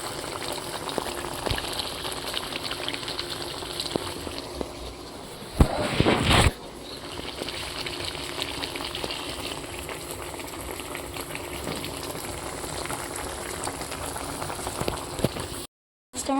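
Chicken fries in a pan with a steady, dense crackle and sizzle, close and continuous, broken once by a louder burst of spatter and a brief dropout near the end.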